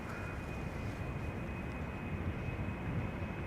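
Loud, steady roar of an Embraer 190 jet departing Amsterdam Schiphol, a broad continuous rumble that stays level and unbroken from start to finish with no talk.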